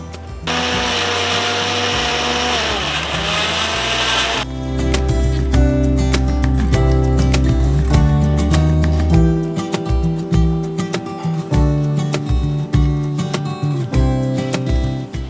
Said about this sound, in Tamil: நம்ம இன்றைக்கி வந்து மிக்சி ஜாரில் போட்டு அரைக்க போகிறோம்